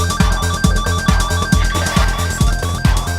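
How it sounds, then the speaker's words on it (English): Sound effects from a Roland SH-1000, Roland's first synthesizer, used on an album: a busy, loud loop of bright ringing tones over a thumping bass pulse repeating roughly twice a second, with no voices. "So that was a Roland SH1000, actually the first synthesizer ever made by Roland, and it was used to record all the sound effects in this."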